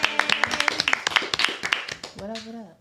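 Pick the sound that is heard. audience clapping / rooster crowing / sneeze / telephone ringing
audience clapping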